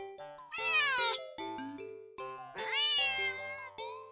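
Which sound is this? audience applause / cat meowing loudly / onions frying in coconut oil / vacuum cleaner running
cat meowing loudly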